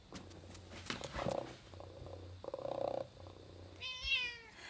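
A robotic petting cat toy made for people with dementia purrs in soft, steady rumbling bursts, close and quiet, then gives a short electronic meow at the end.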